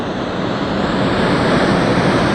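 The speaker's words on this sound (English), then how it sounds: "The force of that water just makes you go, wow." Powerful roar of water rushing through the outlets of the Gariep Dam, a dense, steady broadband rush heard up close and loud, with no speech.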